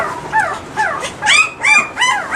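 A puppy whimpers and yips in a series of high, rising whines, close up, with short pauses between each cry.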